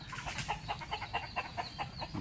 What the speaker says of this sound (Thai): ไก่ที่วัดนอนนะฮะ บนต้นไม้สังเกตดีๆครับ